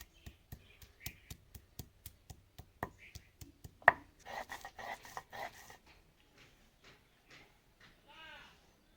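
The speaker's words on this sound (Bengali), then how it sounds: "এখন পাতাগুলা বাইটা নিমু।" Tekagor leaves ground by hand, starting with a run of regular, sharp knocking strokes that give way to softer, irregular scraping and rubbing, with a voice speaking nearby.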